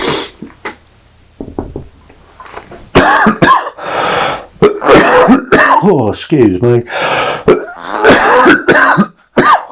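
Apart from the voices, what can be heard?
coughing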